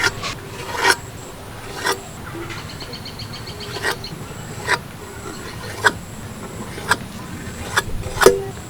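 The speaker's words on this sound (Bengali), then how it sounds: "আর ছুরির সাহায্যে দেখো এইভাবে কাটছি" A knife cuts through thinly rolled nimki dough on a board, making about ten short, sharp scraping strokes at irregular intervals over a low background hum.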